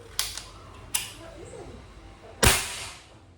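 A Manlapat CO2 airgun fires three sharp, close shots: two lighter cracks early on and a louder crack near the end that dies away quickly. A faint voice is heard between them.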